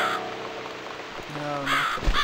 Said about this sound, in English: It's this damn bird again.